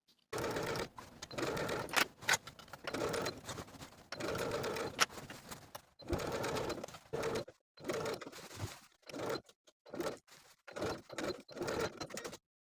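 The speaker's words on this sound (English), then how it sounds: "take this to the sewing machine and edge stitch close to the inner fold of the bias tape" A sewing machine edge-stitches bias tape on a vest armhole in bursts of rapid stitching, stopping and starting repeatedly with short pauses between runs, close by.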